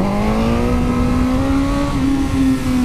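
A Suzuki GSX-S1000 motorcycle engine holds high revs while riding, a loud close drone whose pitch climbs slowly and steadily, with no voices.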